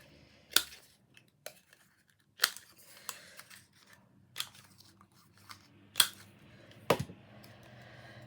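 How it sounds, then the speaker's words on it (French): Paper scissors trim the edges of a handmade greeting card with several crisp, separate snips spaced a second or so apart, close and clear over a quiet room. "peut-être essayer de couper les bords"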